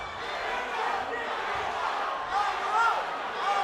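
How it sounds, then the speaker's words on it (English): Crowd cheering and shouting at a live professional boxing event, a steady roar of many voices that swells near the end. "The crowd is cheering right now."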